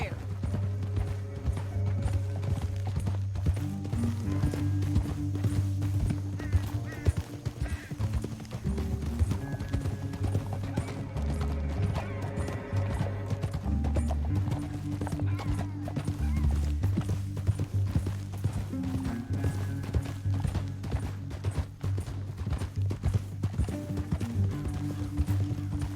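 Hooves clip-clop rhythmically as horses run in a canyon in Red Dead Redemption 2, with an occasional whinny and game-like background sounds throughout.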